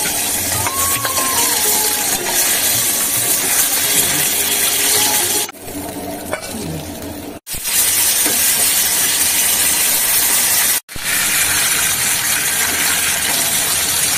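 Fish frying crisp in hot oil, a loud continuous hissing sizzle close by, broken by a couple of brief dropouts, with no talking.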